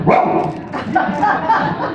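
A voice actor imitates a cartoon dog's barking in a Chinese-language version, giving a quick run of close, loud yips and bow-wows with whimpering inflections.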